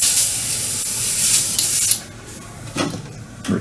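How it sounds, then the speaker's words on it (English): A hobby airbrush blasts out leftover paint in a loud, steady hiss for about two seconds, then cuts off, followed by a few quieter clinks and knocks of handling nearby. "I'll just unload the airbrush"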